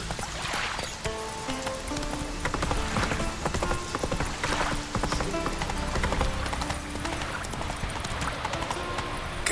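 Roach, a horse in The Witcher 3, trots with steady rhythmic hoof clip-clops on hard ground, continuous and fairly close, mixed with background game music and ambience.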